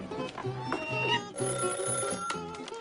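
A telephone rings in a 2003 film scene, its electronic tones repeating in short bursts at close range and filling the short span alone.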